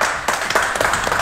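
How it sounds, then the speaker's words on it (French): Studio audience applause at a rap quiz game show, a steady wash of clapping hands that carries on through the whole moment at a moderate level. "on peut applaudir"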